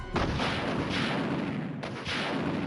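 Rocket launcher blasts in Resident Evil 1 roar as loud, dense explosive rumbles, with two heavy booms in a continuous wall of noise.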